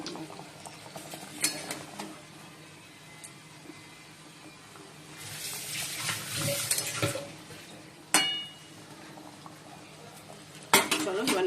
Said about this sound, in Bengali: সব মশলা একবার দিয়ে এটা কষিয়ে নিচ্ছি